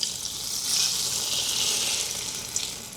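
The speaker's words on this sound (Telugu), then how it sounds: "తాలింపు ఇప్పుడే వేసాను కాబట్టి వేడివేడిగా ఉండిద్ది" Hot oil tempering with cumin, mustard seeds and curry leaves sizzles steadily in the pan, a bright, continuous crackling hiss that swells slightly, with a small pop near the end and no speech.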